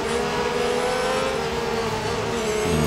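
F1 race cars in the Real Racing 3 mobile racing game drone steadily with a loud, continuous engine whine as the bunched-up pack runs close together, the pitch holding fairly constant for a few seconds.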